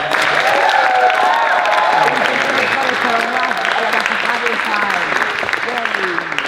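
An audience at a classical music session applauds with steady, full clapping and some cheering, while voices and tonal sounds carry on underneath.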